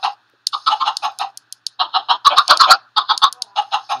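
Chickens cluck in the video game Minecraft inside a survival-mode egg farm, quick clustered bursts of close, clear clucks in short irregular runs with brief pauses, and no talk over them.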